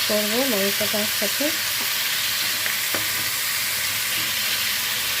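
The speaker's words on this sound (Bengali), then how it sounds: "পাঁচ মিনিট মতো আমি চিকেনটাকে একটু ভেজে নেব" Chicken, a country hen, sizzling steadily as it fries in a pan with a little oil, a loud continuous crackle, with a short voice-like tone early on and faint stirring clicks.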